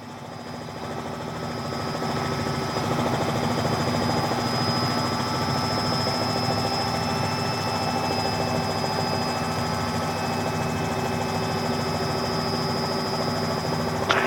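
A Robinson R66 helicopter in flight gives a steady, loud turbine whine with a constant rotor drone, unbroken and close from the cabin, without any talk over it.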